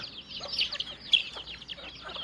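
Village chickens in the Konkan clucking in short, soft bursts, faint and somewhat distant, with no one speaking.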